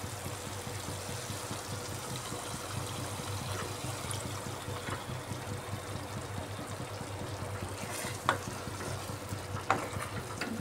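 Masala frying for a yogurt okra dish sizzles steadily as a little water is poured in and stirred through, with a constant crackling hiss, soft scraping and a couple of sharper clinks near the end.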